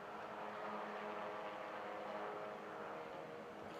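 Mazda MX-5 race cars in the 2019 BRSCC championship at Snetterton circuit give a steady, continuous engine drone that holds at a constant level throughout, with no voices.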